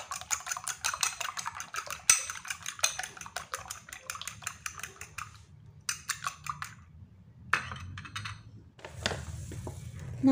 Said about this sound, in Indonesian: untuk telurnya kocok lepas aja seperti ini